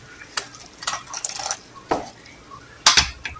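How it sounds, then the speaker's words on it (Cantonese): Metal utensils clink and scrape against a pot as a soup bag is lifted out of a simmering watercress and pork shank soup, giving a few sharp, close clatters with light liquid sounds between them. "跟住我哋要夾出嗰個煲湯袋啦"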